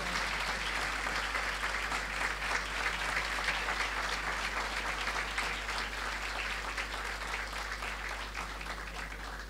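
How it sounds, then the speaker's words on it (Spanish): Sustained applause from a large crowd at a university faculty anniversary ceremony fills the room, steady and dense throughout, gradually easing slightly toward the end. "Compartimos un fuerte aplauso."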